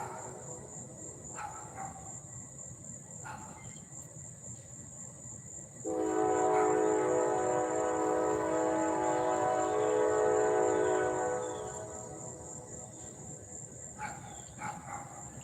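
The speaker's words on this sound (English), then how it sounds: "I hear that train, it makes me want to fall asleep." A train rumbles past for several seconds with a steady horn-like drone, rising and fading, over a constant high insect chirr.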